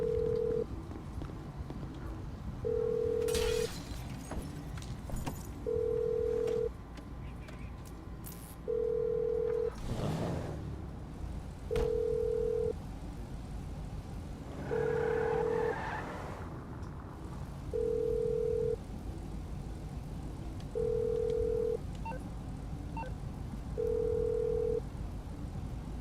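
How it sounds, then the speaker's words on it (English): A faint telephone tone pulses in short, evenly spaced beeps about every three seconds, running alone over a low background hum with a few scattered noises between. "Where's this dial tone?"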